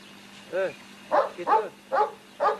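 A female Turkmen wolfhound, a calm and undemanding breed, barks while playing: five loud, close, deep woofs in an uneven rhythm, clear and with no talk over them.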